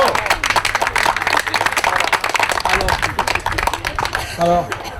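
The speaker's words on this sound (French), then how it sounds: "Voilà, vous pouvez l'applaudir. Bravo." Audience clapping for a newly welcomed member at a lighthearted induction ceremony, dense and busy across the clip, with talk and a brief sung or voiced tone near the end.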